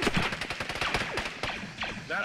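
Gunfire in an ARMA 3 Star Wars campaign battle: rapid, dense bursts of shots striking near the player, crackling continuously for a couple of seconds under and between voices.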